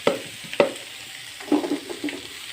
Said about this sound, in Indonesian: Kita aduk rata teman-teman, kita masak hingga bumbunya menyatu dengan ikan